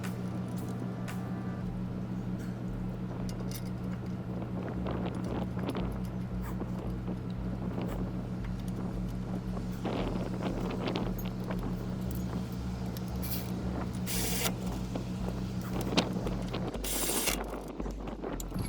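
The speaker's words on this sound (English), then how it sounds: "Thread in those 2 18mm bolts." A ratchet threads two 18mm caliper bolts on a 2007-2013 Chevrolet Silverado during a wheel bearing and hub job, with repeated clicking ratchet strokes over a steady background hum, close by and without talking.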